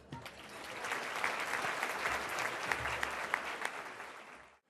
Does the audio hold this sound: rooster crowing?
no